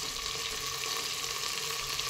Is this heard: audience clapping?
no